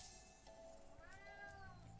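A cat meows in the remastered Spyro Reignited video game, giving one clear, drawn-out tonal mew of moderate loudness over a steady background game ambience, with no talking.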